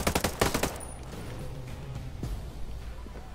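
Gunfire in the video game Ghost Recon Breakpoint, a rapid burst of shots at the start, then a few quieter, more distant reports trailing off.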